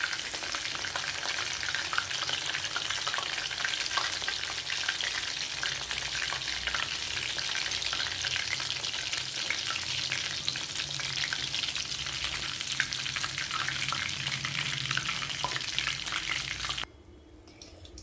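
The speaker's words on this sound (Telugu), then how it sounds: "మంచిగా అయితే క్రిస్పీగా ఫ్రై అవుతాయి" Batter-coated chicken pakoda pieces deep fry in hot oil until crispy, giving a loud, dense, unbroken bubbling sizzle that drops off sharply just before the end. No one speaks.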